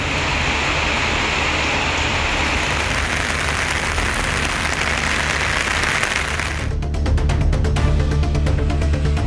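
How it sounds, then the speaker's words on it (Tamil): Moderate rain with thunder and lightning over the Perambalur area, a steady broadband wash of falling rain that thickens into a louder, rumbling patch near the end, with no voices. "இடி மின்னலுடன் மிதமான மழை பெய்தது"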